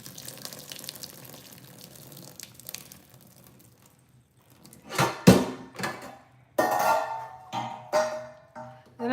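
Hot water is drained off boiled lasagna noodles into a sink, starting as a faint trickle, then breaking into loud splashing gushes and clunks of the pot in bursts.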